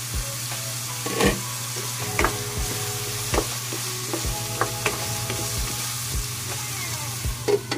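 Chicken pieces sizzling steadily in a hot pan while a utensil stirs them, scraping and clacking at irregular intervals, close and clear with no talking.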